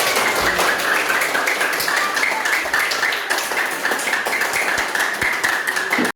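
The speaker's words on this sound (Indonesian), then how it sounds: "tepuk tangan" A classroom of students clapping their hands together, a dense, steady stream of fast claps that holds for several seconds, loud and close, with no talking.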